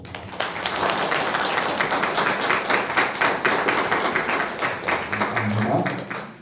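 A church congregation applauding, a dense round of clapping that starts sharply, holds steady for several seconds and fades near the end.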